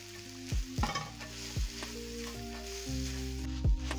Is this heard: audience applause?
no